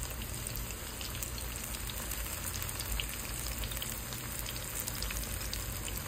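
Bananas fry in a skillet, giving a steady, dense sizzle and crackle with no pauses, fairly loud and close, and no one speaking.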